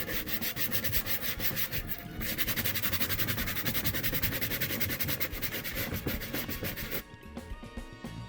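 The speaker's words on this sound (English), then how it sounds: "Alright, a little sandpaper." Sandpaper rubs back and forth in quick, even strokes during a car repair job, a loud, close, rhythmic rasping that carries on for about seven seconds before easing off into quieter scraping.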